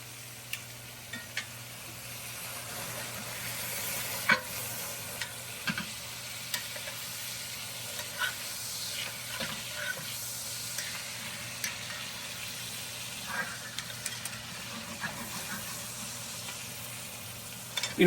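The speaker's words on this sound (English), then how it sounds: "kind of just turn the steaks in the butter a little bit, just to get the butter in the meat" Steaks sizzle quietly in melted butter in a pan while they are turned. A steady low fry runs throughout, with occasional light taps and clicks from turning. The sound is close but soft, with no speech.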